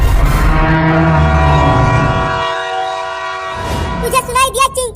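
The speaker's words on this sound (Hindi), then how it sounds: "ट्रेन आ रही है, अभी अभी वो सीटी मारी।" Cartoon train approaching, a loud sustained horn-like whistle with rumbling running noise that fades, followed by a warbling vocal sound near the end.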